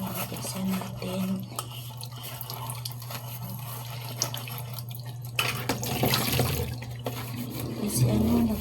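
Tap water runs into a sink while dishes are washed, a quiet, steady trickle with splashes and clinks of dishware near the end.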